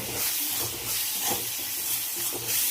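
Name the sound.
spices sautéing in a pan for mutton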